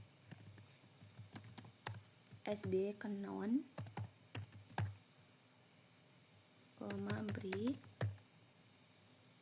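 Keys clatter on a computer keyboard in quick runs of clicks as a STATA command is typed, and someone speaks over part of the typing.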